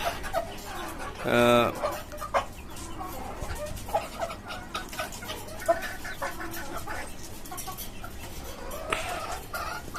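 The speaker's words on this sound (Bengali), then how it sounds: "আমার শখের মুরগির খামার দেশি মুরগির খামার" Free-range native chickens and a rooster on a rooftop farm cluck and chatter nearby, with one loud, drawn-out call early on and scattered squawks over a noisy yard background.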